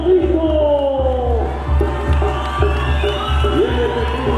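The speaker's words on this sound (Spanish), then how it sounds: "venga, fuerte el aplauso, señoras y señores" Crowd at a bull riding event cheering and shouting over a loud, steady rumble of background music or noise, with an announcer's voice carrying over the mix.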